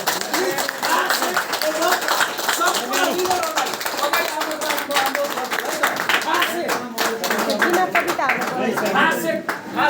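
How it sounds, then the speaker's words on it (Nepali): Audience applause at a Champion's Day award celebration, as qualifying achievers come forward: steady dense clapping across the whole stretch, loud and close, with voices mixed in. "हामी सबैजनाले एक्चुअली जोरदारसँग ताली बजाउने छौं"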